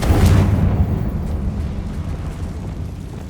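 A Confringo fire spell explosion in the video game Hogwarts Legacy, with a loud, close burst up front that rolls into a long, fading rumble.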